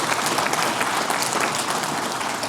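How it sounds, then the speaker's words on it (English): A conference audience at React Rally 2023 bursts into sustained applause, a thick, continuous wash of many hands clapping at once that holds steady throughout. "Can we get a round of applause for sure?"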